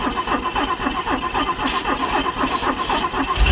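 DeLorean engine, fuel injected and long left to rot, cranking and catching with a rough, pulsing chug, then a louder burst as it fires up, close by.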